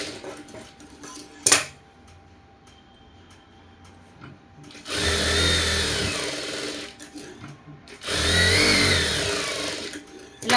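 A sewing machine stitches blouse fabric in two loud, sustained runs of rapid mechanical whirring, each a couple of seconds long and separated by a quiet pause, with a sharp knock heard earlier.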